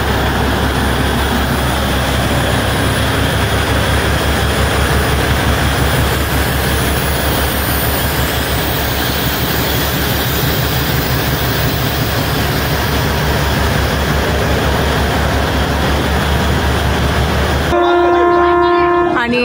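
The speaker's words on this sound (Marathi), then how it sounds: "स्टेशनवरनं ट्रेन सुटलेली आहे नेरळकडे जाण्यासाठी" The Matheran toy train pulls out of the station bound for Neral, a loud, steady rolling clatter that fills the whole stretch and ends with a sharp horn blast.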